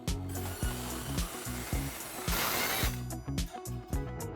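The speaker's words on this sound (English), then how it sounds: "with the right blade, you can use any circular saw to cut metal. But this saw is purposefully designed to cut steel" Metal-cutting circular saw built for steel, cutting steel: a loud, sustained, hissing grind that swells midway, with shorter bursts of rough rasping before and after.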